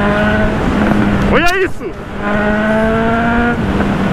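A Honda CB1000 motorcycle on a night ride, its engine droning steadily with a quick rising rev burst midway, while a rider's voice briefly exclaims over it.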